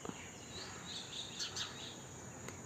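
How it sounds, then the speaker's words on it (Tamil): A male sparrow chirps in thin, high, scattered calls over a steady hiss of insect or ambient noise, faint and somewhat distant, with no voices. "இது ஆண் குருவி."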